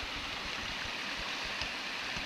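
A stream right behind a woodland camp flows in a steady, close, continuous rush with low gurgles and no voices.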